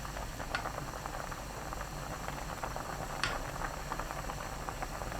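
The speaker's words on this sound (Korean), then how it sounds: "거품 걷어내고 떡이 떠오를 때까지 끓입니다" Tteokguk with rice cakes and tofu simmering in an uncovered pot, giving a steady, soft bubbling boil with faint pops, close and fairly quiet.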